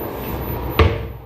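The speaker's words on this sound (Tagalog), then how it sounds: "old drawer." An old wooden drawer in a hotel suite in Bacolod knocks shut with one short, sharp thud over quiet room tone.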